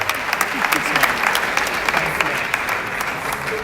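Steady audience applause at a drug-abuse awareness gathering with a Yaba Psychiatric Hospital speaker, continuous dense clapping throughout at moderate distance, with no clear voice over it.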